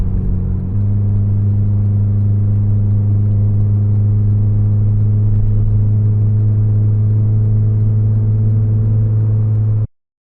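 A Honda Civic's engine drones steadily and loudly from inside the car while accelerating on the road, its pitch shifting slightly early on and then holding an even hum until it cuts off abruptly.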